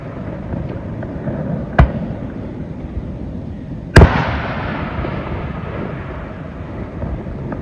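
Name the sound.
firework launch and explosion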